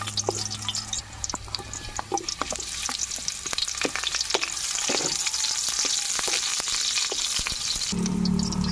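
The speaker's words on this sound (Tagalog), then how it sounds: "dadaan siya sa gisa para yung ating mga spices ay bumango" Marinated pork sautéing with spices in a pan, a dense crackling sizzle with sharp pops and stirring scrapes throughout, close and steady, with no speech.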